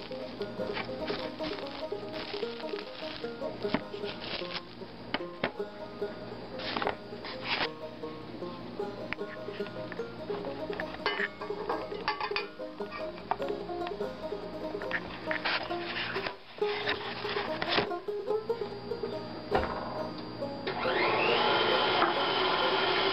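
An electric mixer whips three egg whites in a bowl with a continuous close whirring rattle and gritty mechanical clicks. The sound swells and shifts as the beaters move and grows denser near the end, with no voice over it.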